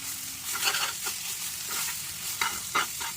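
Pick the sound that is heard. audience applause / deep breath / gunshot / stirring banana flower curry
stirring banana flower curry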